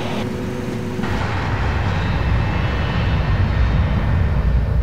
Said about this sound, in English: Officer Terglav rolls Ljubljana for takeoff